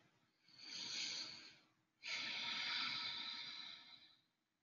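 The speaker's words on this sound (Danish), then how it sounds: "Og prøv at tage en dyb vejrtrækning her." Two slow, deep breaths, an inhale and then a longer exhale, drawn close to the microphone and airy in a quiet room during a guided meditation.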